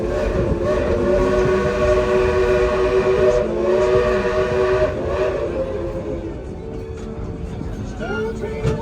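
Dollywood theme park train ride, a steady rumble of rolling wagons under a sustained whistle-like tone, with a voice heard over the ride noise.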